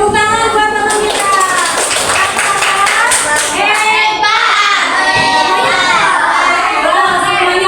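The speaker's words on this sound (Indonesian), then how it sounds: "tepuk tangan buat teman kita" A class of children claps for a classmate during a lesson about food chains, a quick burst of close, loud clapping that gives way to children's chatter and noisy classroom voices.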